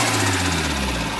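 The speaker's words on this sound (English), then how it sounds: "Now I'll just give it a little rev, and the responsiveness of the engine is totally transformed." A Ford RS Turbo engine fitted with a stage 4 racing camshaft runs close by, with a loud steady droning throb and a rising pitch as it revs, and no voices over it.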